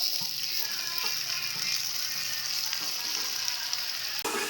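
Rice khichdi sizzling and frying steadily in a pan as tomatoes go in, a continuous close crackle with a brief stir near the end, no talk.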